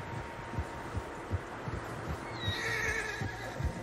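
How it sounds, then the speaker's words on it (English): Horses in the Western video game Red Dead Redemption 2 give a clear, rising whinny midway through, heard over soft rhythmic hoof thuds and a low ambient bed, moderately close. "Horses, quite a few of them."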